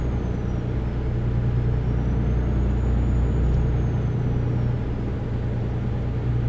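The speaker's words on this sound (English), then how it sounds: "This truck does kind of have a nice sound to it." A truck engine in a mobile driving video game drones as a steady low rumble, loud and even throughout, with no talk over it.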